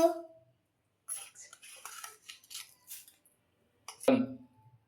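A utensil clinks and scrapes against a bowl while egg omelette batter with ginger, garlic and salt is stirred, coming in short, close taps and scrapes with quiet gaps and one sharper knock near the end.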